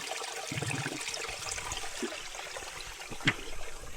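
A clear, cool forest stream flows in a steady, broad rush of water with faint trickling and gurgling close by, plus a single brief sharp knock near the end and no speech.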